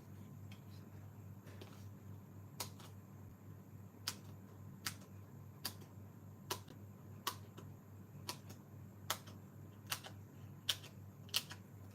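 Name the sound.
cutting up dimensional foam adhesive pieces for a card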